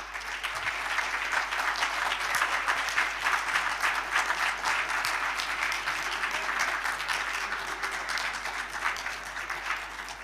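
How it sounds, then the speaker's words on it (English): Loud, sustained audience applause at a legislative internship programme event, a dense wash of many hands clapping steadily for around ten seconds with no talking over it. "I don't know why I received that loud applause"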